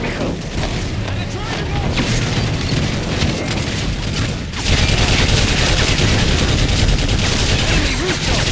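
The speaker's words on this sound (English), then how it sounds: "Yuri, man the 50 caliber, lay down cover for it. Put fire on the technical" Heavy .50 caliber machine gun fire in the video game Modern Warfare 3, a dense continuous barrage with booming impacts that grows louder partway through, mixed with battle noise and voices.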